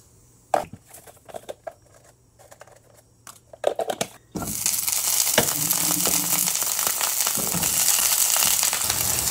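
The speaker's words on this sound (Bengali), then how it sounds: "এবার দেব আলুর টুকরো, একটু নাড়াচাড়া করে দেব হলুদ আর কাশ্মীরি লঙ্কা গুঁড়ো" Potato pieces drop into hot mustard oil tempered with nigella seeds, dried chilli and spices, setting off a loud, steady sizzle after a few sharp clatters and knocks, with scraping stirs over the continuous frying.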